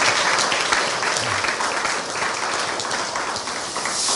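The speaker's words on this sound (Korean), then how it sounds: "우리 성가대 우리 친구들에게 격려의 박수, 감사의 박수 하겠습니다" A university chapel congregation applauds its choir, a dense, even wash of many hands clapping that holds steady and fairly loud throughout, filling the hall without pause.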